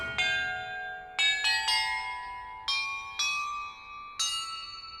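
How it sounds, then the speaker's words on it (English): Bells rung in a puzzle in the video game Hogwarts Legacy strike about seven times in an uneven sequence, each tone clear and ringing out as it decays, with no talking. "Perhaps the map contains clues about the order I'm supposed to ring the bells in."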